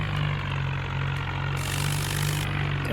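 A tractor with a double trolley idles while parked at the roadside, a steady close engine rumble that holds evenly throughout with no talk over it.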